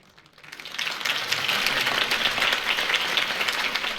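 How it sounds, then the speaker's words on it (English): Crowd applause in Batman: The Telltale Series, rising from quiet into a steady, dense wash of clapping that holds at full strength after a political campaign speech, with no voices over it. "could have heard that applause"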